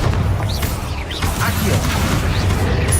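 Booming magical blasts from the Bombarda spell in Hogwarts Legacy, a dense run of explosive thuds and crashes with mechanical clatter, loud and continuous over a low rumble, with a voice briefly heard.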